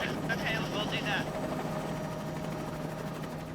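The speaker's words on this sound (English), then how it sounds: "Brad is now using the helicopter to drive the elephant to a clearing so that Amanda can dart him." A helicopter drones steadily overhead while herding an elephant in the Malawi bush, its engine a constant whir under a voice.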